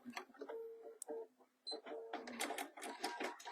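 Sewing machine top stitching a fabric purse, close and fairly quiet, running in short rapid bursts with brief pauses and a final back stitch, the needle ticking in a fast mechanical rhythm.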